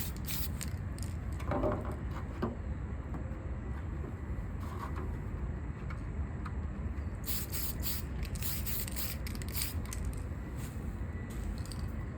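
Spray paint going on as a light coat over a Tamiya Hotshot body, with short hissing bursts of the can over a constant low background rumble, the longest and strongest bursts coming late.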